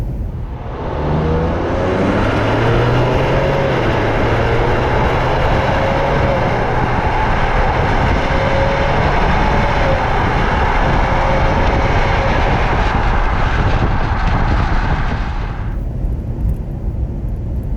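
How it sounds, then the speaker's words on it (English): A 2020 Ford Explorer ST accelerating hard under automatic transmission, its engine drone rising in pitch and dropping at several gear shifts over a loud, steady road roar before cutting out near the end. "You can kind of hear it shifting through the gears there"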